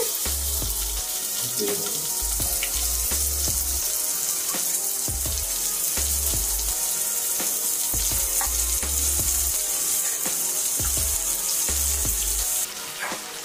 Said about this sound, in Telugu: బెండకాయ ముక్కలు ఆయిల్లో చక్కగా ఇలా ఫ్రై చేసుకోవాలండి